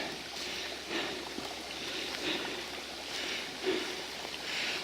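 A mountain stream flows nearby with a continuous soft rushing and trickling wash, gentle swells in level, and no voices.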